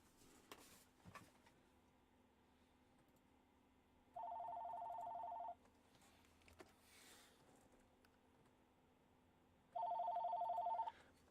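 Telephone ringing with an incoming call, two bursts of electronic trilling tone separated by several seconds of quiet, faint and thin against low background hiss with a few small clicks.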